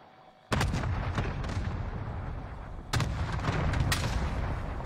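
Cluster airstrike explosions go off in a video game match, a sudden wall of rumbling booms and crackling blasts that continues and then swells again with a second strong volley.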